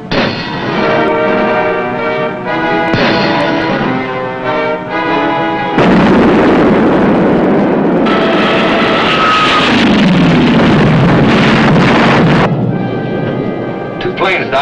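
Heavy underwater depth-charge explosions bombing a submarine's torpedo wake in wartime, deep booming rumbles and roaring surges filling the whole stretch, loud and sustained with shifting intensity.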